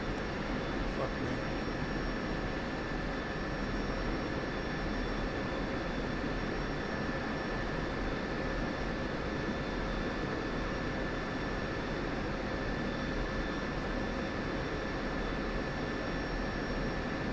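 A steady, continuous aircraft engine drone fills the scene as a plane taxis in a flight simulator game, with faint high whines riding over a broad, unchanging roar.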